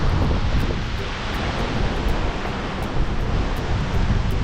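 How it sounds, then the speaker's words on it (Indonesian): Strong wind gusting outdoors in Canada, a steady loud broadband roar buffeting the microphone for the whole stretch, with no voices. "anginnya kencang banget"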